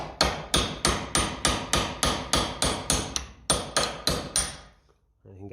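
Hammer taps on the castellated nut of a 1968 Triumph T100C front fork: about fourteen sharp, evenly spaced metallic blows, close and loud, with a brief pause partway through before the strikes stop.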